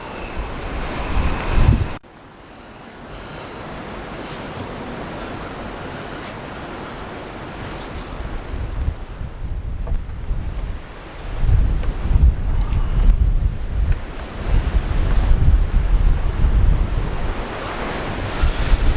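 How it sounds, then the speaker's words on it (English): A strong gale blows at the castle on St Michael's Mount, roaring and buffeting loudly against the microphone in gusts that build toward the end, with no one speaking. "We're up at the castle and it's blowing a gale."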